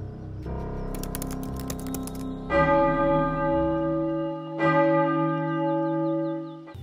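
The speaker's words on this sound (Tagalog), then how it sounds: "ripeke ng kampana para sa Misa de Gallo" A church bell tolls for the Misa de Gallo dawn Christmas mass, with long ringing overtones, struck again partway through, with faint tapping or clicking at the start.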